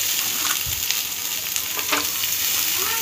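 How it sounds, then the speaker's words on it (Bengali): Potatoes hit hot oil and fry with a steady, close sizzle, with brief stirring clatters over the crackling hiss and no voices. "এবার আমি আলুটা ছেড়ে দিলাম,"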